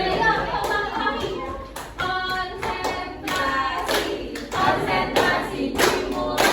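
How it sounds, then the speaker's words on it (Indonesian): Hand clapping in a classroom science peer-teaching practice session, sharp claps repeating in a steady concentration-game rhythm alongside voices, fairly close and loud throughout. "Jadi tepuk terus gitu."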